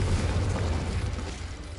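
Confringo fire spell exploding in a wizard video game: a low, rumbling boom that fades over under two seconds.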